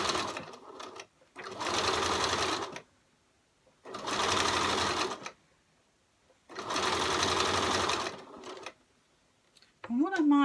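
A Gemini sewing machine top stitches a cosy cover in three long bursts of steady whirring, separated by pauses, close up; a brief voice is heard at the end.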